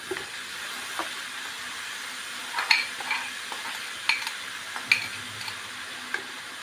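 Chopped elephant foot yam stems stir-fry in a hot pan, a soft steady sizzle broken by scraping stirs and a few light clicks of a spoon against the pan.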